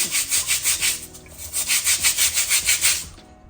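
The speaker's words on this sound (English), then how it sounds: "you're going to take a produce brush and you're going to scrub" A produce brush scrubs fruit or vegetables in rapid back-and-forth strokes, giving a close, rhythmic bristly rasp that pulses about five times a second, then stops.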